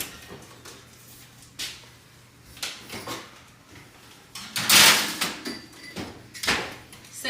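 An oven door opens and closes in a home kitchen while a tray of whoopie pies goes in. Clanks, sliding scrapes and one loud bang near the middle are heard close up, with no speech.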